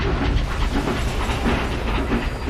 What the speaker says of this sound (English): The two engines soon headed off, their long goods train rattling behind them.